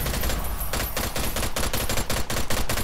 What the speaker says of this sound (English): Alright, everybody fire!